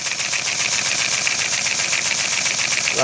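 LEGO single valve engine with direct mechanical valve operation and no valve springs, running in a fast, even mechanical clatter that stays steady and close throughout.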